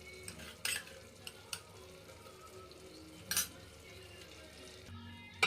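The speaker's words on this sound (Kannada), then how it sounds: "ನೀಟಾಗಿ 1 ರೌಂಡ್ ಮಿಕ್ಸ್ ಮಾಡ್ಕೊಬಿಡೋಣ." Tomato, peas, chilli powder, biryani masala and salt are stirred in a pan for tomato bath, with a soft sizzle under a few sharp spoon scrapes and clinks against the metal.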